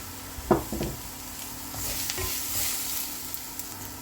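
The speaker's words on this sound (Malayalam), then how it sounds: "അപ്പം രണ്ട് പച്ചമുളകും രണ്ട് തണ്ട് കറിവേപ്പിലയും കൂടെ ഇട്ട് കൊടുക്കുകയാണ്" Green chillies and curry leaves drop into frying ginger paste in hot oil for a tomato curry, with a sharp clatter at the start and then a close, even sizzle with light stirring.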